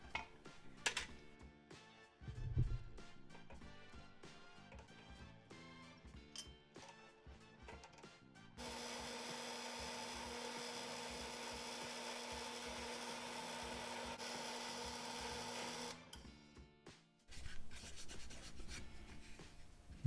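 A power drill with a 13/64 drill bit bores a hole for a 1/4-20 thread while building an adjustable light stand, a steady whirring run of several seconds framed by quieter handling clicks and scrapes.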